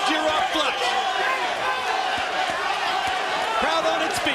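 A boxing crowd at the Vassiliy Jirov vs James Toney IBF cruiserweight title fight roars steadily throughout, with thuds and commentary voices over the dense noise.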